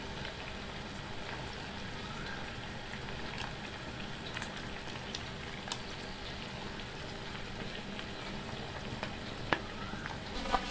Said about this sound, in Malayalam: അതിലേക്ക് നമുക്ക് മീൻ കഷ്ണങ്ങൾ ഇട്ട് കൊടുക്കാം